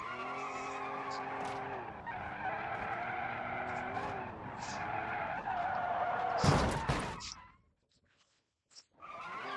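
A car in a video game lands on its four wheels and skids, a loud sustained tire squeal with engine tone that cuts off abruptly, followed by near silence and a brief return of noise; voices are faintly present.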